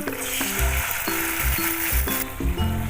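Tomato paste made from boiled tomatoes hits hot oil in a pan for mushroom rogan josh, giving a steady close sizzle with stirring scrapes, heard over background music.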